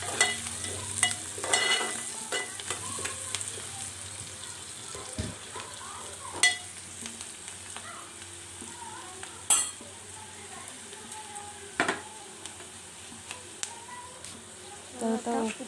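Egg pulusu curry being stirred in a pan after turmeric is added, with a low simmering sizzle broken by irregular scrapes and sharp clinks of a utensil against the pan.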